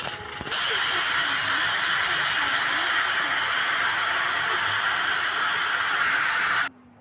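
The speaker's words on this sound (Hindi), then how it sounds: "अब कुकर का ढक्कन लगा देंगे और 4 से 5 सीटी आने तक पका लेंगे।" A pressure cooker of mutton releases steam in a loud, continuous hiss that starts abruptly, holds steady for about six seconds, then cuts off.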